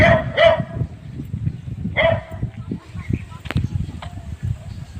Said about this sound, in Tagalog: at ang ingay ng aso